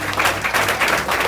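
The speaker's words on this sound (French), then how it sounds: "Applaudis mon Dieu si mon Dieu fait grâce là" A church congregation claps together, a short burst of dense applause with a faint low hum underneath.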